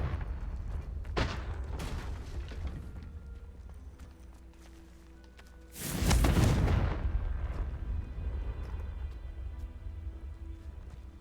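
A Confringo spell explosion bursts in Hogwarts Legacy, a loud, broad blast after a few earlier sharp cracks, followed by a sustained roar that slowly fades.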